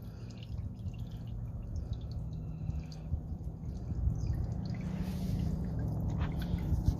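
Motor oil drips and trickles into a drain pan during a car oil change, a faint, steady wet patter that grows slightly louder toward the end.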